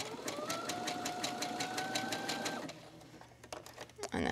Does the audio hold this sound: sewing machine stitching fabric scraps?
yes